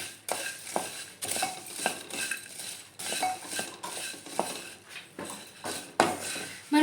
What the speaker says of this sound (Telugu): జీడిపప్పు కూడా వేసుకొని రెండింటిని సిమ్లో పెట్టుకొని వేయించుకోవాలి